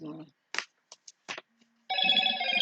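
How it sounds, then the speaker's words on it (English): A mobile phone sounds off indoors at night: a few short, sharp chirps and blips, then a steady, bright electronic ringtone that rings on at moderate volume to the end. "that's my phone making noises."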